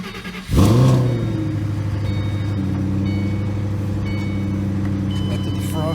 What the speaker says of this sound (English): these are stock mufflers, so got a little bit of a rumble to it